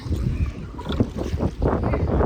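Gusty wind buffeting the microphone outdoors on water from a rowing boat, with low rumbling blasts rising and falling unevenly throughout.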